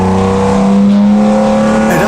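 A V12 LS engine built for a Camaro runs on a dyno, giving a loud, sustained, steady drone with strong harmonics that holds for about two seconds before shifting at the end.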